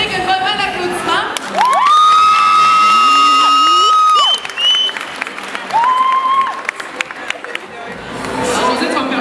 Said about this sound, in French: Merci Frédéric, un bon round d'applaudissements.